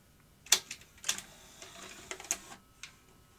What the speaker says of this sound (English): Eject the tape.